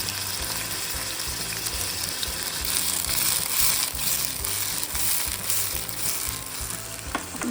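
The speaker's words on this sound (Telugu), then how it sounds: "ఆ టమాటాలు వేసి బాగా వీటిని మగ్గనియాలి." Chopped tomatoes and green chillies cook in hot oil for tomato rasam, giving a loud, continuous close-up sizzle and crackle that swells briefly midway, with occasional stirring scrapes.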